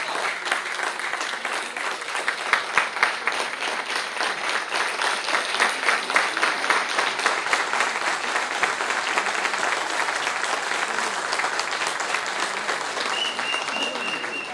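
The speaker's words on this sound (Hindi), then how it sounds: "आप सब जोरदार तालियों के साथ स्वागत करेंगे।" Sustained applause from a crowd at an agricultural seminar, steady dense clapping that carries on throughout, moderately loud with a slight murmur of voices beneath.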